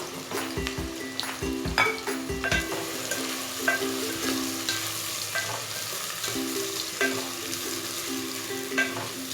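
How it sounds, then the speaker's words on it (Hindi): Chopped onions hit about one and a half cups of hot oil for a beef liver curry, giving a continuous crackling sizzle with stirring scrapes early on and a low tonal hum running underneath. "अब मैं इसमें कटे हुए प्याज को फ्राई करूँगी।"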